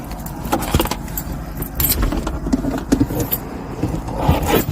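Keys jangle close by in a series of bright metallic shakes and clinks during a police stop, with a car engine or road rumble running steadily underneath.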